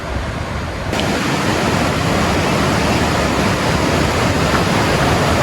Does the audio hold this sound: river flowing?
yes